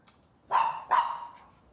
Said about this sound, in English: why is the dog barking at the...